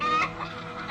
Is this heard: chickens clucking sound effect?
yes